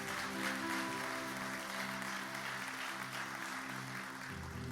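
Congregation applauding during a church sermon, a steady wash of clapping sustained throughout and blended with sustained organ or keyboard tones underneath.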